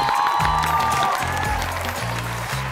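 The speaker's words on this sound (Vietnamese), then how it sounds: "vỗ tay cho Ngọc Phước" Studio audience applause on a Vietnamese TV quiz show, a brief burst of clapping under loud electronic music with a rising synth tone and pulsing bass, the clapping steady and not heard alone.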